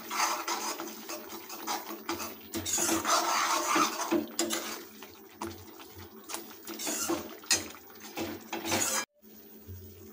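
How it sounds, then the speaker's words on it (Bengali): Bhindi masala being stirred and sautéed in a kadai over a low flame, with a spatula scraping and clinking against the pan in a steady rhythm of repeated strokes, moderately quiet and close, with a faint sizzle. "এখন এটাকে আরও 2 মিনিট ধরে এভাবে কষাতে থাকবো।"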